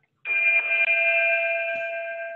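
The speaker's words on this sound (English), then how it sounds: "there's our welcoming bell." A welcoming bell chimes at a Rotary Club meeting, one clear sustained electronic ding-like tone with several steady harmonics, starting sharply and slowly fading, alone in a quiet room.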